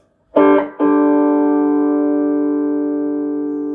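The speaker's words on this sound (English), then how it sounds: "So that's a good natural overdrivey sort of AC30 type tone there coming out of the BC2." Two quick strums on an overdriven PRS electric guitar through a BC2 drive pedal into a Vox AC30 amp, the second chord ringing out and slowly fading with a touch of amp reverb, close and loud.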